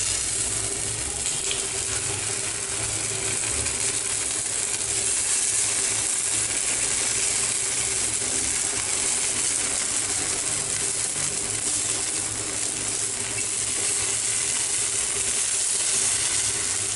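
Steady, even sizzling of thuthuvalai (Solanum trilobatum) paniyaram frying in a pan, a continuous crackle with a low hum beneath, unbroken and without speech.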